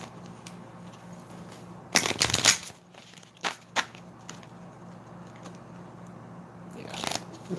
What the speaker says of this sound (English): Let's get 2 more shuffles and let's cut it 3 times.